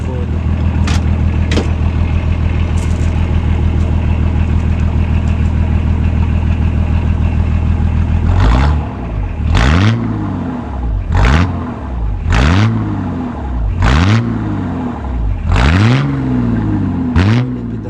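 A Datsun 620 with a 2.8L diesel engine and its exhaust right beside the cab idles steadily and loudly, then is revved six times in a row, each rev rising and falling.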